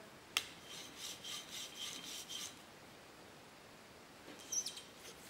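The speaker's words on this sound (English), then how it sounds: "I'm sharpening this way. Back and forth." Iron from a 120-year-old Stanley No. 6 hand plane stroked back and forth on a sharpening stone, giving soft, close, rhythmic scraping passes followed by a brief pause and a few more strokes.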